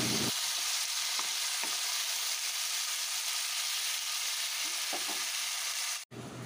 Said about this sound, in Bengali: ভালো করে একটু পেঁয়াজ রসুনটাকে ভেজে নিচ্ছি।